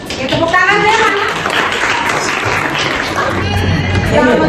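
Ninth-grade junior high students in a classroom clap their hands together in a dense, continuous patter that lasts throughout, mixed with children's chatter and voices.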